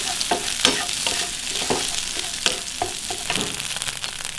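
A vegetable filling stir-fried until dry in a pan, steady close sizzling with repeated scraping strokes of a spatula and no talking.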